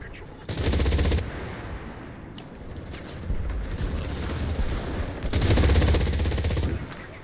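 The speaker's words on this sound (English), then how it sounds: "That's a grenade." Grenade blasts in a World War II shooter set during Operation Market Garden: two loud, rough bursts about five seconds apart, each lasting under a second, over a noisy game background.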